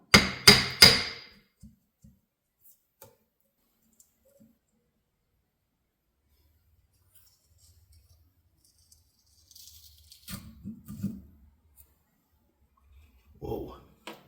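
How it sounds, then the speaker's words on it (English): Several sharp metallic knocks come first, then scattered faint clicks, scrapes and handling noises while the carburetor is pulled off a TD6 engine with tools, with long quiet gaps between the sounds. "I'm gonna pop this carburetor off"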